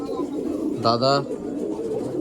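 Pet pigeons coo close by in a loft, one clear rolling coo in the middle over a low murmur of further cooing.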